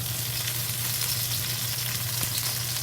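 Scallion and cilantro fry in hot oil with a loud, continuous, crackling sizzle and occasional stirring, close up and with no talking.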